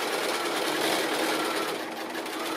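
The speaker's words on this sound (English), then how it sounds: "I've just flipped it to the front and I'm sewing the binding down" Sewing machine running continuously at speed as it stitches binding onto a giant floor cushion made from fat quarters, a steady, close, even whir with no talking.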